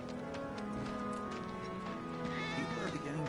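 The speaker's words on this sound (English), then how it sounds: "I swear I just heard a cat." A cat meows a few times in the video game Final Fantasy VII, set over steady game ambience and music with tonal hums and clip-clop-like ticks.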